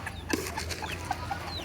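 A molting backyard hen clucks in short, repeated throaty calls close by, with other chickens' chirps and peeps scattered around her in the background.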